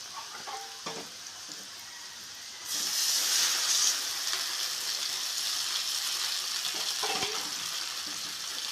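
Frying pumpkin sizzles quietly in a pan, then water poured in about three seconds along sets off a sudden, louder steady hiss and bubbling sizzle that carries on to the end, with a few clinks of a utensil.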